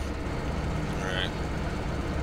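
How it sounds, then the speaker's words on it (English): A loud tractor engine drones steadily at a distance on a farm in Idaho, a constant low rumble with broadband noise that holds evenly through the whole short stretch. "Man, that's a loud tractor. You hear it all the way over here."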